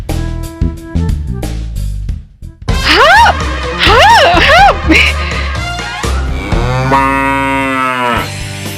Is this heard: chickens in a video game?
no